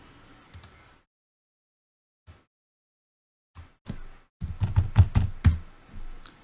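Typing on a computer keyboard into a Google Sheets spreadsheet: a few scattered isolated key taps separated by silence, then a rapid, close, fairly loud run of clacking keystrokes ending in a softer patter.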